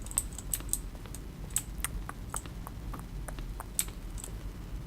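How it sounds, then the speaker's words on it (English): Button press sounds from an office PC in The Stanley Parable, each a keyboard stroke mixed with a synthesized tone, arriving as a brisk irregular series of sharp, bright clicks up close. "Each sound is a mix of a keyboard stroke and a synthesized tone."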